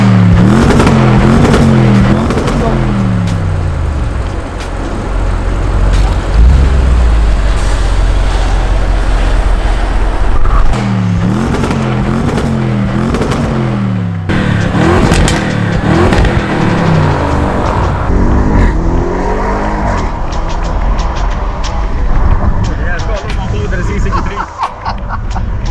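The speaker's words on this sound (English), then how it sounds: "Right, should we go on the test drive?" An Audi RS6 on a test drive, its engine revving up through repeated rising sweeps as the car accelerates, loud and close throughout, with the pitch climbing and dropping between shifts.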